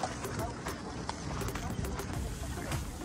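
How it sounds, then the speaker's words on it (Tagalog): Horses' hooves clip-clop on pavement near the Giza pyramids in Cairo, Egypt, among carriage horses, a steady busy clatter of irregular hoof strikes with people talking over it. "Ayan siya, mga ang daming kabayo dito."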